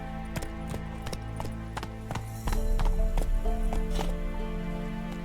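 Hooves of Roach, the horse in the Witcher 3 video game, clip-clop in a quick regular rhythm, picking up into a heavier gallop with a louder rumble halfway through, close and without talk.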